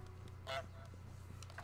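A goose honks in Untitled Goose Game, one short nasal honk standing out over a low steady hum, fairly faint with no talk.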